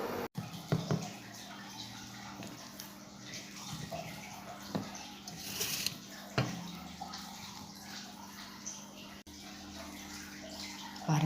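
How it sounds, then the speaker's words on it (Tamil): Tomato kuruma bubbling in a pot, a soft continuous simmering wash with scattered small pops and clinks, fairly quiet and close. "நம்மளோட தக்காளி குருமா சூப்பராக கொதிச்சு ரெடி ஆகிடுச்சிங்க"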